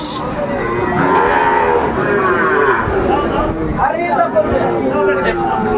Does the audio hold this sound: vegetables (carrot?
no